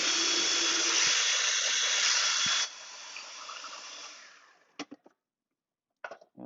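A food processor grinds matzo into meal with a loud, steady motor whir that cuts off partway through, followed by a few brief knocks and clatters as the machine is handled.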